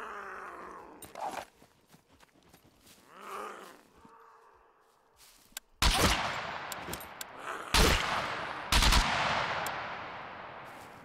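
Gunfire in the video game SCUM: after groaning and grunting sounds, loud sharp shots burst out, with several heavy blasts and rattling fire that rings out in the later half.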